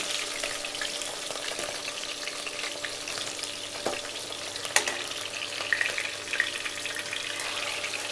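Whole small shallots fry in hot oil for a garlic kulambu gravy while being stirred. A steady, close sizzle runs throughout, broken by a few scraping and clinking strokes of the spoon. No one speaks.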